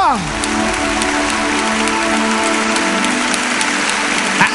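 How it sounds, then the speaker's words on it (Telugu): A church congregation claps loudly together, with a dense, steady patter of many hands that stays strong for several seconds. A preacher's raised voice and a sustained tone run under the applause. "గట్టిగా చప్పట్లు కొడదాం."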